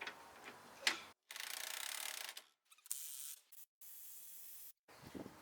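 An impact wrench loosening the lug nuts on the tire of a 2007 Ford Edge during a tire change, heard as several faint buzzing bursts of about a second each separated by short pauses, with no talk.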